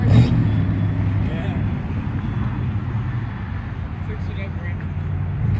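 Cars rolling past at the Syracuse, NY car show, a continuous low engine rumble and road noise from vehicles nearby, with voices talking over it outdoors.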